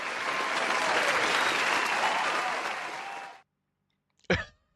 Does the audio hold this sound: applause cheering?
yes